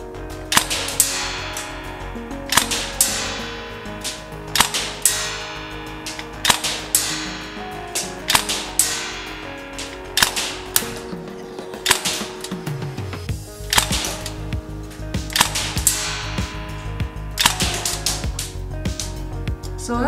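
Northeast MP2A1 Uzi gas blowback airsoft gun firing 0.2 g BBs on semi-auto: a steady run of sharp, close, loud cracks with the clack of the cycling bolt, about two to three shots a second, with no talk.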